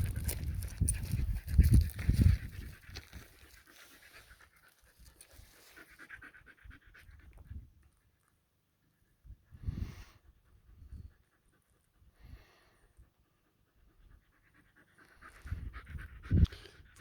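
A husky pants outdoors in rapid, breathy bursts close to the listener, loudest at the start, then fading to sparse pants and brief shuffling amid stretches of near silence.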